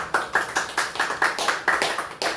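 Applause at an emergency discussion forum on the Russia–North Korea summit: a small audience clapping in a steady, even rhythm of sharp, close claps for a couple of seconds.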